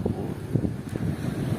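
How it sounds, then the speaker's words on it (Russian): Fresh wind blowing in off the sea at a seashore, a steady low rumbling buffet against the microphone with faint gusting swells and no talking. "вот тут дуют такие свежие ветра"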